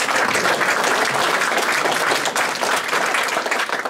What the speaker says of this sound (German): Falls er noch keinen Applaus gekriegt hat,